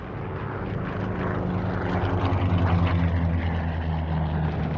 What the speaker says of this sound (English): they circled the carrier Yorktown amid a storm of anti-aircraft fire and radioed back her position